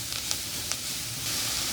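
Vegetables and green chillies fry lightly in a pan, a soft, steady sizzle with a few faint clicks of utensil contact, close and low in level.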